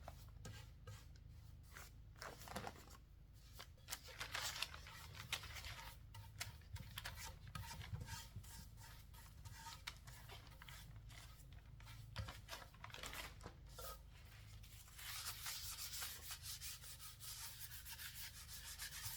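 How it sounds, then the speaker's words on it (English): A balled-up piece of saran wrap is rubbed over decoupage paper laid on furniture with polyurethane medium, giving a steady, soft, close scrubbing and rustling sound that carries on almost without a break and has no speech over it. "I like to use a balled up piece of saran wrap to smooth out any wrinkles."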